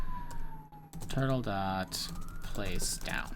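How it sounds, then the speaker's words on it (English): Emergency vehicle sirens drift in through an open window, a faint falling and rising wail in the background while a person speaks and types on a keyboard up close. "excuse the sirens. That's getting picked up."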